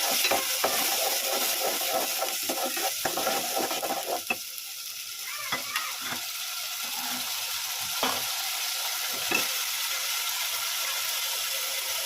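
Ground spice paste frying in soybean oil for homemade mezbani beef curry, a steady close sizzle broken by repeated scraping, clattering stirs of a spoon against the pan.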